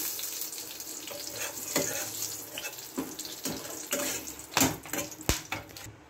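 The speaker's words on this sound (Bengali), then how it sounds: "ছোটো এলাচ, দারচিনি, লবঙ্গ ফোড়ন দিয়ে দিলাম।" Cardamom, cinnamon and cloves sizzling in plenty of hot oil in a pan for a pabda fish kalia, a steady hissing crackle with occasional sharper pops and clinks, moderately close.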